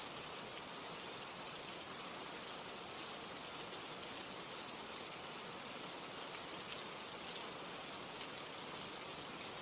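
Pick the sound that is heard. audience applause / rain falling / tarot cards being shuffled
rain falling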